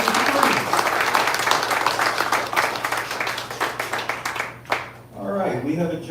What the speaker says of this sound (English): one more big round of applause for our guests